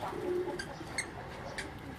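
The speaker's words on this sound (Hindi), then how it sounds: "तो ये आप उनके हाथ में एक कबूतर देख रहे हैं।" Soft, low cooing of a Teddy pigeon murmurs faintly against a quiet rooftop background in Islamabad, with no voices.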